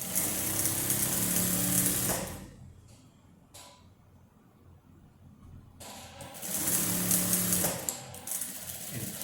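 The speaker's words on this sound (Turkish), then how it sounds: "Ve kumaş altta, pervaz üstte dikişimi çekiyorum arkadaşlar." Sewing machine stitching a seam on a wrap dress, fabric underneath and facing on top: a loud, fast, steady whirring run, a pause of a few seconds, then a second run, with no talking.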